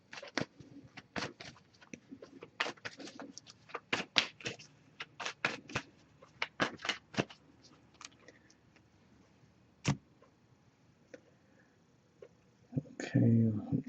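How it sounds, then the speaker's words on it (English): Oracle cards are shuffled in quick bursts of soft riffling and flicking, close by, with pauses between, and a voice briefly heard near the end. "I'll also pre-shuffle that one."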